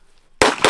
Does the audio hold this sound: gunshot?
yes